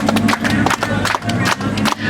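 Jingle Cruise passengers keep clapping a steady beat to a birthday song, loud and close, with a voice singing over the claps and a low boat hum underneath.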